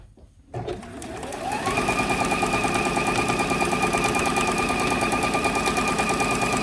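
A sewing machine stitches appliqué on a Christmas tree quilt top, revving up over the first second into a loud, steady, rapid needle rattle that runs on close and unbroken.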